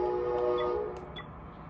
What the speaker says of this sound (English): That loud ass train.